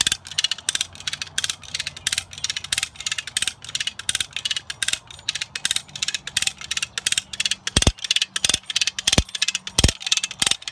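A zipline tensioning ratchet is cranked by hand to wind steel cable onto a spool, giving close, repeated rhythmic clicking from the pawl, with several sharper knocks toward the end.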